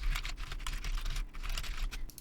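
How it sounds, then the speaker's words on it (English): Steady typing on a computer keyboard, a run of close, crisp key clicks in uneven bursts with brief pauses, alone without any voice. "ignore my typing. I do apologise. I've got slightly slow fingers today."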